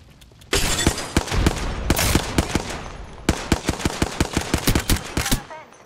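Gunfire from a Hemlock rifle in single-fire mode in a shooter video game, heard as rapid, loud cracking shots in dense bursts over a constant background of game noise and effects.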